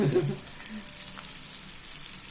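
Eggplant (brinjal) pieces frying in oil on medium heat give a close, steady hiss and sizzle, fuller at the start with a brief stir, then settling to an even crackle without talk.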